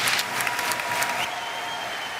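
A velodrome crowd at Jens Voigt's UCI Hour Record attempt claps and cheers loudly, the applause surging at first and then thinning into a softer, lingering roar.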